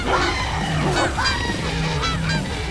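Loud, repeated honking bird calls like geese in a video game, Animal Fight Club, overlapping and constant, with a busy electronic background.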